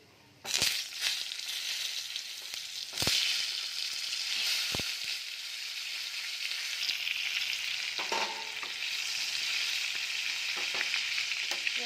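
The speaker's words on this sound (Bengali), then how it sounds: "এবার আমি একে একে পটলগুলোকে" Pieces of pointed gourd drop one after another into hot oil with sharp clicks, followed by a loud, continuous sizzling and crackling.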